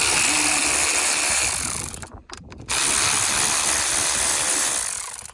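A ratchet works loose the air box bolts on a Ford Escape 1.5L, giving a continuous close clicking and grinding that breaks off briefly midway, then resumes.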